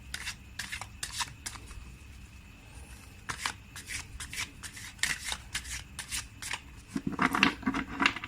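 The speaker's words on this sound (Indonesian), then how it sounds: "Oke, saya shuffle dulu kartunya." Tarot cards being shuffled, a run of soft, quick riffling and sliding bursts up close that grow busier toward the end, with no voices over them.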